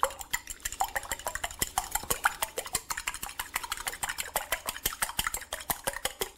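A fork beats eggs in a bowl for a mashed potato casserole, giving rapid, steady clinking taps against the dish, close and fairly loud, with no talking.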